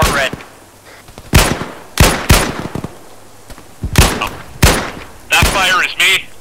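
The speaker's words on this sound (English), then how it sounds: "I'm gonna send some more tracers their way, have them aim off of you, hopefully." Bursts of automatic gunfire firing tracers in the ArmA 3 video game crack in repeated short volleys, loud and close, with radio-style voices talking between the shots.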